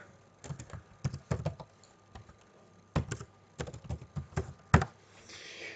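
Typing on a computer keyboard while entering a swimmer's first and last name into a Lenex entry program: bursts of quick, close key clicks separated by short pauses, with no talking.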